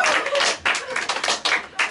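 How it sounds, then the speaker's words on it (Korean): A small group claps quickly in short, uneven bursts, close and lively, for about two seconds. "자 박수!"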